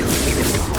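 A Confringo fire spell blasts in the video game Hogwarts Legacy, a short, loud, dense burst of explosive crackle and boom that fills the moment.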